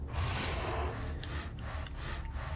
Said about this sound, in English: That fucking breathing in my fucking ears.